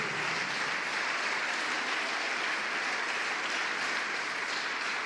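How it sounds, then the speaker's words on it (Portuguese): A church congregation applauds steadily in a broad, dense wash of clapping that holds at even loudness for several seconds, with no clear voice on top. "Vamos dar um aplauso ao Deus da família"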